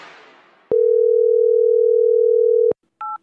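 Telephone dial tone on a call being placed again: one long, loud steady tone lasting about two seconds, followed by a short higher two-tone beep, with no talking.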